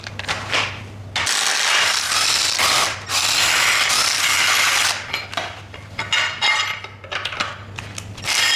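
A hand ratchet undoes bolts on the engine of a Mini Cooper S R56, its loud rapid clicking running in repeated bursts with short pauses between strokes, close up and with no talk.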